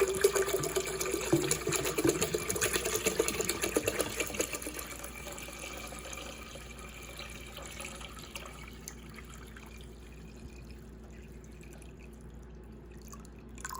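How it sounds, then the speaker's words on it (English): Water is poured into a budget countertop water distiller, a trickling, splashing stream that runs loud for about five seconds then tapers off into faint drips and quiet. "now I'm gonna fill it up with water to the fill line"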